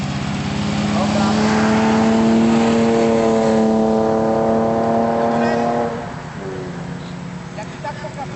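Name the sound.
car engine accelerating during a first driving lesson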